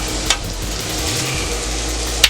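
Sliced onions and green peppers sizzle on a steel flat-top griddle alongside Philly cheesesteak meat, making a loud, steady hiss with two sharp metallic spatula clicks at the start and end.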